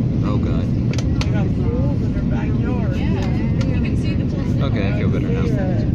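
Loud, steady airplane cabin roar as a flight descends toward landing in Phoenix, with people talking over the engine drone throughout.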